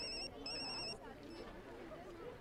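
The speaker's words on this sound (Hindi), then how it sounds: "फिर से फोन आया था।" A telephone rings in two bright electronic bursts over busy background noise and murmuring voices, followed by continued room noise.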